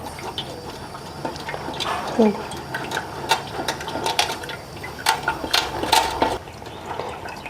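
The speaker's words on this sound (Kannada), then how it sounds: "ಈ ಥರ ಸ್ವಲ್ಪ ಅದಕ್ಕೆ ನೀರು ಹಾಕ್ಕೊಂಡು ಈ ಥರ ಸೋಸ್ಕೋಬೇಕು" Water is poured and sloshed through soaked ragi as it is strained by hand, giving intermittent splashes and wet clattering bursts at close range.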